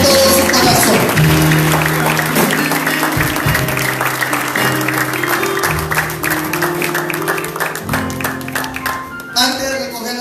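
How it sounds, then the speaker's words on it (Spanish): Church congregation clapping strongly through ten seconds, overlaid by sustained keyboard or organ tones and voices, with the clapping carrying on beneath the music in a lively worship setting. "Den un fuerte aplauso al Señor con todo su corazón"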